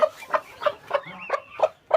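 A hen, once given a duck's egg to hatch, clucks close by in a steady run of short, evenly spaced calls, about three per second, with no voices.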